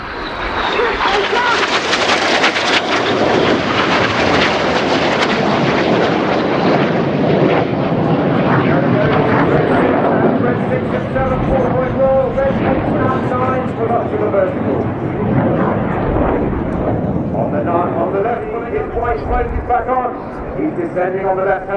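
Royal Air Force Red Arrows jets in a flying display at RIAT air show, a loud sustained roar of passing jet engines that swells and slowly fades, with a commentator talking over it.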